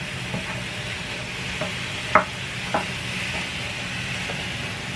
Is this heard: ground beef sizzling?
yes